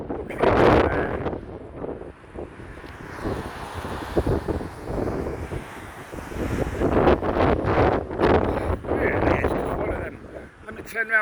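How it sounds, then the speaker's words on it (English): Strong gusting wind buffets the microphone in an outdoor Blackpool rain and windstorm, with loud low rumbling bursts rising and falling throughout while someone talks over it. "Turn around this way and then the wind noise ain't as bad. It's really windy as well"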